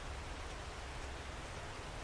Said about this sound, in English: Oh, it got raining.